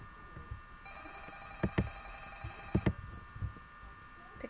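A telephone rings in the Five Nights at Freddy's video game, a steady electronic ring tone that holds for a couple of seconds, with a few sharp, loud thuds punctuating it over a quiet background.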